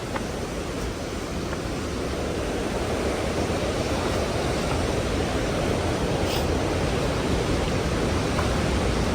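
A waterfall near a hillside temple in a village area sends a steady, dense rush of falling water, loud and unbroken for the whole stretch.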